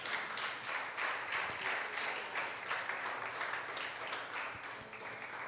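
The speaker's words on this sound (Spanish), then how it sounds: "Dele un aplauso al Señor" A church congregation applauds during a sermon: a soft, continuous wash of clapping heard from some distance, steady throughout.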